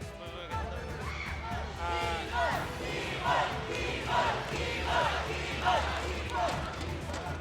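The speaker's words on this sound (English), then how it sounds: "The crowd is cheering for Keyboy like he's going to a grand finals matchup." Spectators at an MPL esports knockout match, DEVU vs ONIC, cheer and chant for the player Keyboy in rhythmic swells over a low arena rumble, with a commentator talking over the crowd.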